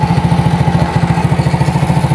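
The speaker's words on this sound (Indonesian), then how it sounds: "kita gas sedikit teman-teman motornya" Honda Grand motorcycle engine running steadily in a workshop, a loud close rhythmic putter with even pulsing firing beats and a slight rise in revs, with no voices over it.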